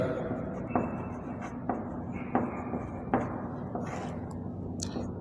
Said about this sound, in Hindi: तो देखिए मैं यहाँ लिखता हूँ समीकरण